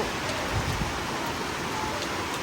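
Heavy, steady rain roaring as a dense wash of noise, close and continuous throughout, with a few faint thumps underneath, during a power outage.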